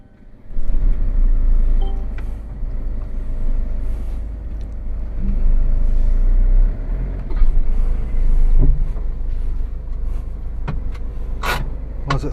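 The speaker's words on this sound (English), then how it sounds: "Let's drive this round to where the place they want it." A Sprinter van with an active brake assist fault drives along, its engine rumble steady and close throughout, with a few faint clicks and creaks from the cabin.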